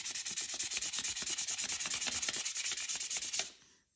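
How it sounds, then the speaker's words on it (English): Rapid back-and-forth sanding strokes on a chainsaw cylinder, fine sandpaper worked in a cross-hatch pattern to smooth out grooves; a steady scratchy rhythm of about eight strokes per second, close and loud, stopping abruptly near the end. "I'm interested in getting rid of the grooves that I left in there with the thicker sandpaper. So I'm going to use that cross hatch pattern again."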